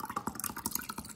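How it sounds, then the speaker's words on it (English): Homemade hand sanitizer poured from a small container into water, heard as quick irregular drips and splashes close by, faint and short, with no talking. "now we're gonna pour it into the water."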